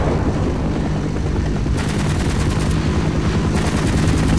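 Rapid gunfire aimed at a helicopter in the video game Half-Life, a dense continuous rattle of shots with louder bursts and the helicopter's roar underneath, loud and close, no voices.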